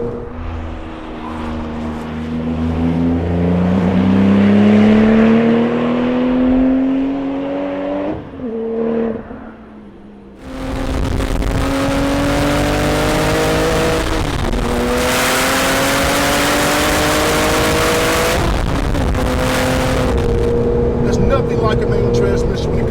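A sports car engine revs up through the gears, dropping briefly between shifts before roaring back loud and close.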